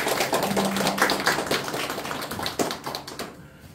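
A church congregation applauds after a sermon, dense overlapping claps filling the room steadily and fading out near the end.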